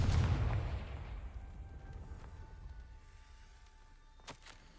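A Confringo fire spell explodes in Hogwarts Legacy: one heavy blast at the start that rolls off into a long, fading rumble, with a small crack near the end.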